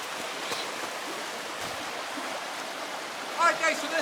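River rapids swollen after heavy rain rush with a steady, moderately loud hiss, heard from close by, and a few faint birdlike chirps rise briefly near the end.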